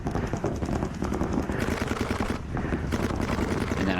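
Paintball markers fire during a paintball practice game in loud, rapid strings of shots, near and almost continuous across the field.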